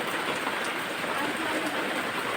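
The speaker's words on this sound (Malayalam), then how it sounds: "പുറത്ത് നല്ല മഴയാണ് കേട്ടോ." Heavy rain pouring outside, a continuous loud broadband hiss of drops on surfaces, steady and unbroken with no other sounds standing out.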